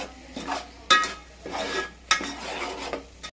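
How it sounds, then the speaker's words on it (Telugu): Paneer curry masala being stirred in a pan: a spoon scraping and clinking against the metal in a few quick strokes, close and fairly loud, with a light sizzle beneath and no speech. "కలుపుకొని ఇది కూడా మళ్ళీ ఆయిల్ పైకి వచ్చినంత వరకు వేయించుకోవాలి."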